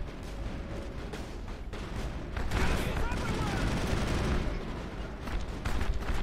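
Rapid bursts of gunfire and combat noise fill a Mass Effect firefight, dense and loud throughout, with a player's voice talking over the action.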